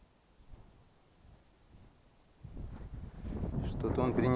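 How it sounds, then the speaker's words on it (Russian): Wind gusts build into a loud rush of wind noise against the microphone, growing stronger toward the end. "Поднимается ветер."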